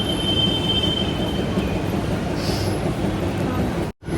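A metro train rolls past with a steady, loud, broadband rumble and faint high wheel squeal. The noise holds for about four seconds, then cuts out sharply for a moment near the end.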